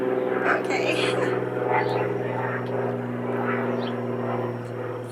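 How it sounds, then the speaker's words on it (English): A loud airplane passes overhead with a steady droning engine roar that holds throughout, while a person speaks softly beneath it. "Sorry about the airplane."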